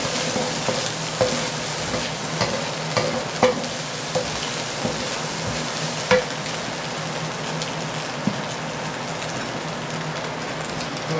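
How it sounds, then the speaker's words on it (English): Shrimp frying in a pan hiss and crackle steadily while they are stirred, and scattered utensil knocks and scrapes ring out against the pan over the continuous sizzle. "Add my shrimp with his juices back in there. And I'm gonna stir this for about another minute before we add our rice."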